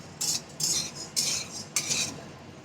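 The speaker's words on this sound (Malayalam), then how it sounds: "അപ്പോൾ പൊട്ടുകടല വറുക്കുമ്പോൾ നന്നായിട്ട് നോക്കി വറുക്കണം" A utensil scrapes through roasted chickpeas being dry-roasted in a pan at home, four quick, crisp stirring strokes in an even rhythm, close and fairly quiet, with no talking.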